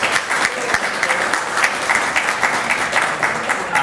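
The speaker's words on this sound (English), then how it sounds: "Give him a round of applause" Sustained audience applause at a commencement-related dinner gathering, dense and steady clapping from a full room throughout, fairly loud with no talk over it.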